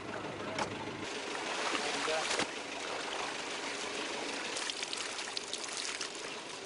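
A vehicle pushes through a deep creek crossing on the Telegraph Track, Cape York, with a continuous rush and splash of churning water, loud and close throughout.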